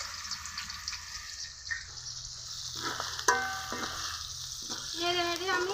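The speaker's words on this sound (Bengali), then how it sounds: "তেল গরম হয়ে গেছে, এখন আমি বিরিয়ানির জন্য বেরেস্তা ভেজে নিব।" Sliced onions hit hot oil in a kadai and fry for mutton biryani, giving a close, steady sizzle with stirring scrapes and a sharper crackle partway through, and no voices.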